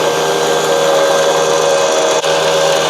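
A tiny table saw cutting 3/4-inch wood, a loud, steady, close whine of the small motor and blade under load that holds nearly constant, with a brief dip near the end.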